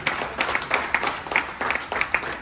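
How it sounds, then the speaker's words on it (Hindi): Seminar audience at an AWPL training event breaking into loud applause, dense overlapping claps swelling in rhythmic bursts for a couple of seconds, with no talking over it. "एक बार जोरदार तालियां।"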